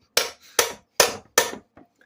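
A Briggs and Stratton vertical shaft engine part (model 09L602) is struck with a hammer to knock it loose: four sharp metallic blows at a steady pace, close and loud, followed by a couple of faint light taps.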